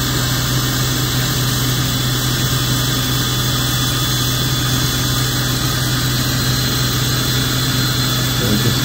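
A small air compressor supplied with a laser engraver cutting 3 mm birch plywood runs continuously, giving a steady, loud mechanical hum with a constant high whine and no pauses or talking.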